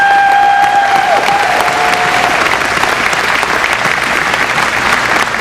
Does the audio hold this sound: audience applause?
yes